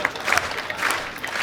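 Audience applause at a live Hindi poetry performance by Kumar Vishwas, a brief, dense burst of many hands clapping steadily and fairly loud throughout.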